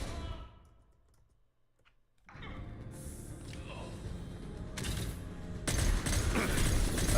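Bursts of rapid gunfire from the Mass Effect 2 Legendary Edition shooter, starting after a quiet stretch and growing dense and loud, with clicky keyboard typing mixed underneath.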